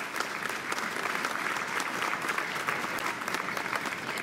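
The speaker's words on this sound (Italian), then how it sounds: "Un applauso per Barbara." Sustained applause from an audience at an Italian municipal election list presentation, dense steady clapping for about four seconds, fairly close and loud with no talk over it.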